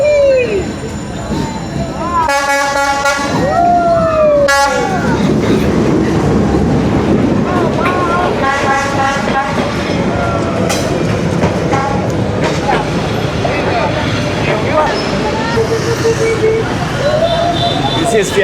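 A train rolls slowly through the narrow, crowded train street in Hanoi at night, rumbling and clattering steadily with horn toots, while onlookers nearby talk and cheer.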